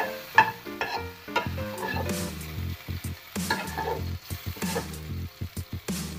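Eggs sizzle steadily in a frying pan while a spatula scrapes and lifts them off the surface in quick, repeated strokes; the sizzle and scraping play alone, with no talk.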